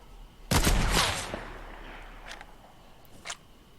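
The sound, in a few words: sniper gunfire in the video game Fortnite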